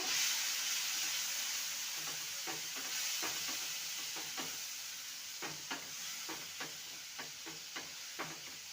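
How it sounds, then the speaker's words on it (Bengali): Chopped onion fries in hot oil with a soft, steady sizzling hiss, while a utensil taps and scrapes the pan in a run of quiet, fairly regular knocks, close but low in volume. "তেলটা গরম হয়ে গেছে এখানে পেঁয়াজটাকে একটু মিক্সিতে চপ করে নিয়েছি দিয়ে দেবো"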